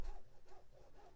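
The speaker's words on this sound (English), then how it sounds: "I'm going to draw my line" Four short, scratchy strokes of a marker dragged across quilt fabric, close up and fairly quiet, each lasting about a quarter second.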